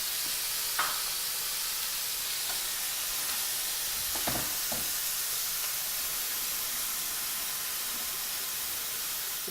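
Lamb with herbs and spices sizzles in a frying pan with a steady, bright hiss, broken by a few soft stirring clicks and pops, and no talk.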